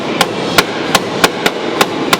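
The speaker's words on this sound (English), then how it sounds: "Hey, stop hammering for a second." Metal car body parts joining a Ford to a BMW are struck by a hammer, seven sharp, loud clanks spaced at a steady, quick rhythm over about two seconds.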